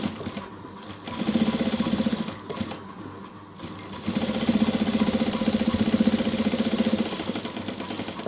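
A sewing machine hums steadily, stitching along the edge of a fabric patti strip on a trouser hem, running in a short burst, pausing briefly, then continuing in a longer close, even rhythmic whir.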